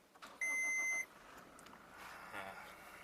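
A 2019 Toyota Fortuner VRZ 4x2 started by push button: a short electronic beep, then the engine cranks and catches, settling into a quiet, low idle heard from inside the cabin.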